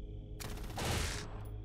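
A machine gun fires a sustained burst in the tactical video game Xenonauts 2, heard as a dense rattle of shots that starts abruptly, swells, and then cuts off after about a second.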